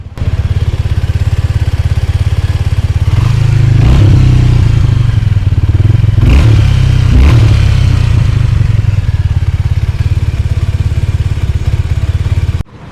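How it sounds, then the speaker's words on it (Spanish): A Suzuki V-Strom 250 SX adventure motorcycle runs close by, its engine and muffler giving a steady, throbbing idle with a few brief revs in the middle before cutting off. "así es como suena el motor y el muffling"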